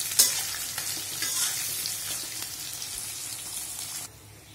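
Onions frying in a hot pan for a prawn do-piyaza, a loud, bright, crackling sizzle with scraping stirs that runs steadily for about four seconds and then cuts off abruptly.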